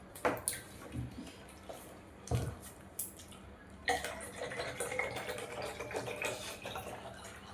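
Cold water is poured into a pot of chicken biryani: a few soft clunks and drips, then a continuous splashing pour that grows busier toward the end, close by with no talking.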